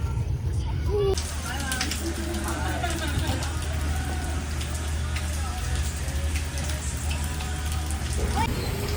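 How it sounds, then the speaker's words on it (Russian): Steady rain falls in spring, a continuous close hiss of drops on surfaces with low rumble beneath, while voices speak intermittently over it. "Все, настало время мощных дождей, весна пришла."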